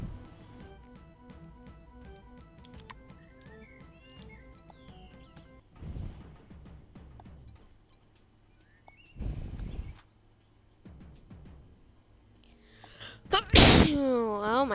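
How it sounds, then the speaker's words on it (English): A person sneezes once, a sharp loud burst near the end, while playing the Rec Room game; quieter game sounds and a voice come before it. "I'm sneezing like crazy."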